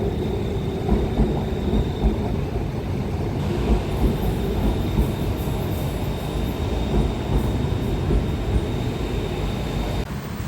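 Steady low rumble of a BTS elevated metro train at a station in Bangkok, rolling continuously with faint wheel squeal and clatter, loud and close throughout.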